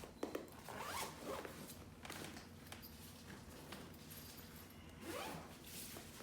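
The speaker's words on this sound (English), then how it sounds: "I'm going to go and zip this up." A paintball gear bag being zipped shut, several quick rasping zipper pulls in a row at close range, with soft handling noise in between and no talk.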